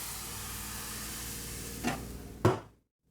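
Crepe batter from a ladle sizzling in an oiled pan as it is swirled, a quiet steady hiss with two short scraping bursts near the end before it cuts to silence.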